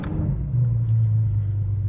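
6.5-liter V12 of a Ferrari 812 Superfast firing up, a brief start burst settling into a deep, steady, loud rumbling idle.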